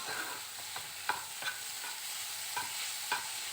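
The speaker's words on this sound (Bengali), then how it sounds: "এভাবেই নেড়ে চেড়ে ভেজে নেব" A utensil scrapes and stirs in a pan in quick, irregular strokes over a quiet, steady sizzle of taro stolons frying with nigella seeds over medium heat.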